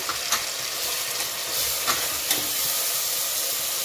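Tomatoes and green chilies fry in a pan for egg biryani, producing a steady close sizzle broken by a few light stirring clicks, with no one speaking.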